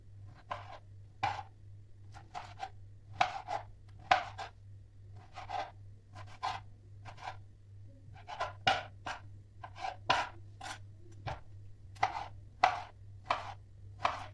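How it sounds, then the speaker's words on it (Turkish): A knife chops tomatoes repeatedly on a cutting board, crisp irregular thuds in quick bursts, close up, over a faint steady hum. "Böyle bunu da küçük küçük doğrayacağım."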